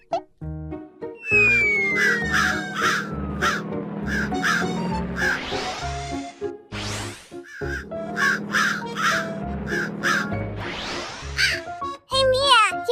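A cartoon crow caws in a playful children's cake-challenge scene, several sharp repeated calls mixed with bright music stings, whooshes and chirpy effects, with a voice chattering between them.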